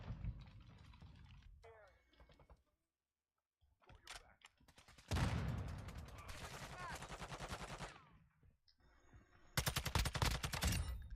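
Gunfire from a first-person shooter video game rattles in dense automatic bursts, with sharp single cracks and a long sustained volley, loud and close amid game sound effects.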